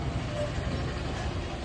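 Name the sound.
train arriving at the station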